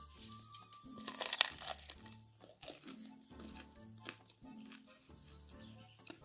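Crispy cheese-filled filo pastry pastels crunch and crackle close up, with one loud flaky burst early on and quieter crisp crinkles continuing over a soft rhythmic background.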